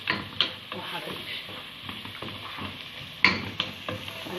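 Onion and spices fry in a pan for Egyptian turmeric rice and are stirred a couple of times: a steady close sizzle broken by sharp scraping clatters of the utensil.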